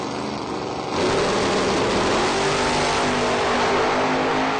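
Chevy Nova drag race cars launch off the start line in a sudden surge of loud, sustained engine roar that stays close and dense to the end, with no talk heard.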